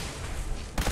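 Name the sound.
gunfire in video game Fallout 4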